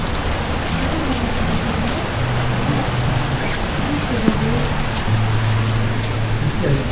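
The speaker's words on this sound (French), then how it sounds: "une grosse pluie." Heavy rain pours steadily during a thunderstorm with hail in the French Alps, a dense, even roar of drops heard from indoors, with voices talking faintly underneath.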